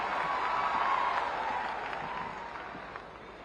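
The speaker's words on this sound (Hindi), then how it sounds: "जी का तालियों के माध्यम से आप सब स्वागत करें" An audience at a national pharma sector seminar in Varanasi applauding together, a dense wash of clapping that is strongest at first and slowly tapers off.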